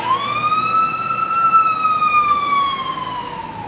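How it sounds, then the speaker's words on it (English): Ambulance siren sweeping past loud and close, one long wailing tone that swells and then slowly drops in pitch as the vehicle moves away. "oh, there's an ambulance."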